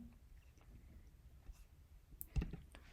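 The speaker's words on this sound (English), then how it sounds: "Just click on the plus icon." A single sharp computer mouse click stands out near the end of a quiet, faintly noisy room, preceded by a few softer ticks.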